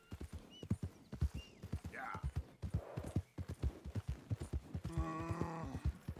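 Horse hooves clip-clop at a steady walking rhythm in the Red Dead Redemption 2 video game, close and clear, with a short whinny near the end and people talking over the steps.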